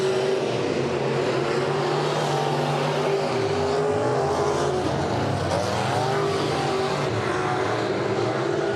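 A Sport Mod race car roars around the track at Maquoketa Speedway during Saturday heats, its engine a steady, loud drone that rises and falls as it runs down the back straightaway and through the turns.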